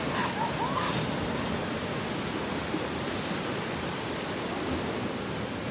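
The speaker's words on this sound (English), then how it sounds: "these waves are pretty loud" Loud ocean waves breaking on a beach form a dense, steady roar that fills the whole stretch, close to the microphone with no pauses.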